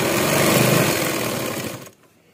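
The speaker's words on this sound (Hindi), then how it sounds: "अब हम इसकी सिलाई लेंगे" A sewing machine stitching a bridal sharara gives a close, steady, fast whirr for almost two seconds, then stops abruptly into near silence.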